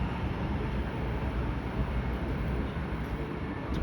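Sunbury suburban train pulling out of West Footscray station, a steady broad rumble and hiss of wheels and motors holding level throughout, moderately distant with no voices.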